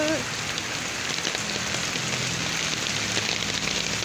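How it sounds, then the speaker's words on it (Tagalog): Heavy, unbroken rain pours down during a typhoon, a dense steady hiss of drops drumming on surfaces for the whole stretch, loud and close with no break. "tapos tuloy-tuloy ang ulan"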